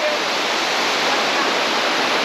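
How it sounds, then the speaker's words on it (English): A river flows below a dam in Mindanao, making a loud, steady rush of broadband water noise that continues unbroken and close by. "I'm on the river itself, below the dam actually."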